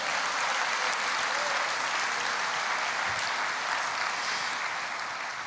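A church congregation claps steadily in a dense, sustained wash of applause that fills the room for several seconds, with no talking over it.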